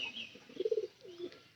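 A pigeon coos softly nearby in a short rolling phrase, with a faint high bird chirp at the start and quiet surroundings.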